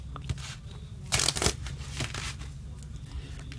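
A deck of tarot cards shuffled by hand, a brief riffle of papery flutters with a louder burst in the middle, close and alone without talk.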